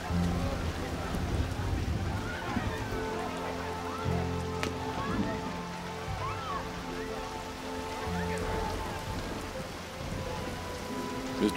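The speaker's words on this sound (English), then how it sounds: "It's raining." Steady rain falls around a convertible car left with its top down, a continuous hiss of drops spattering on surfaces throughout, with people talking faintly underneath.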